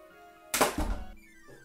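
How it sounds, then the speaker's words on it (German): A curtain rod drops indoors with a sudden loud bang and a short clattering rattle, heard once against a quiet background. "Und plötzlich knallt neben mir einfach mal Gardinenstange runter."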